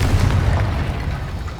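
A Confringo blasting spell goes off in the Hogwarts Legacy video game: a loud, deep booming explosion with a heavy low rumble that carries on evenly through the whole moment, with no voices.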